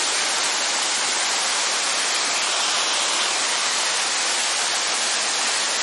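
Lágrima del Indio waterfall in Córdoba pouring water in a steady, loud, broadband roar that stays constant throughout, with no voices over it.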